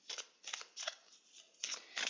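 Tarot-style spirit animal cards are shuffled by hand, several short papery riffling bursts in a quick, uneven rhythm, close and fairly quiet.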